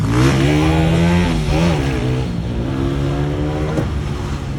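A 140cc motorcycle engine revs hard and steadily, its pitch rising and falling through several throttle blips, loud and close, with no talk.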